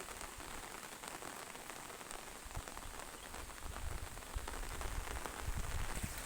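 Steady rain falls on a rice field, a dense constant patter of drops that grows slightly heavier toward the end.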